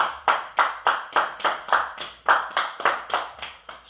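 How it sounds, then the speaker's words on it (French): One person clapping after an at-home workout session in a living room, about a dozen evenly spaced, crisp claps at a steady rhythm, close and alone with no talk. "On souffle un coup, on se relève. Avant de boire un coup, dernier exo, on s'applaudit tous."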